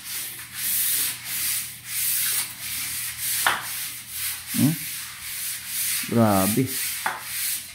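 Hand sanding a house wall surface ahead of painting: a steady, close abrasive rasping with rhythmic strokes throughout, interrupted by a few brief voice exclamations and murmurs.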